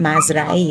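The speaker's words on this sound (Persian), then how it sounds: "حالا سگ شاکیه که چرا رفتی قایم شدی؟" Farm dog on an autumn hiking trail in Turkey barking and whining at a cat that fled up a tree, a short, close, strained yelp with a voice speaking at the same time.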